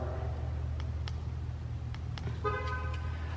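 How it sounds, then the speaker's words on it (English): Car locked with a key fob in a parking area, a couple of short horn chirps sounding near the end over a steady low engine and traffic rumble. "Let me make sure I locked my car."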